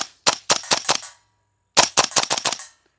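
A Classic Army URGI MK16 gas blowback airsoft rifle fires two quick bursts, about four or five sharp, close snapping shots each with a short pause between, the cycling sounding slightly sluggish.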